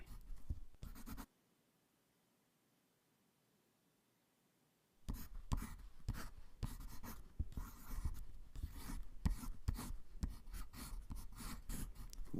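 Scratchy, rhythmic strokes of something being written with a reed gripped between the teeth, in close, dense bursts after a few seconds of near silence.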